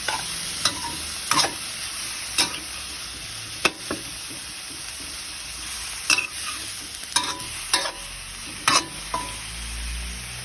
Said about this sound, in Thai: เราก็จะผัดไปสักพักหนึ่งนะครับ แล้วก็ รอให้หมูมัน แห้งนิดนึงนะครับ